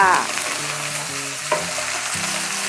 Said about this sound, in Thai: เมนูนี้ผัดไฟแรงๆ ให้ผักกรอบๆ นะคะ